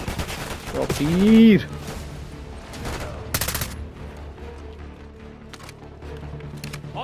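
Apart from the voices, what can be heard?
gunfire in video game Call of Duty Black Ops 6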